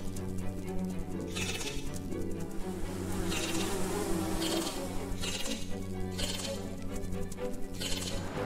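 Steady, continuous bee buzzing in the Bee Simulator video game, a dense insect drone that swells and fades in regular waves along with game ambience, with no speech.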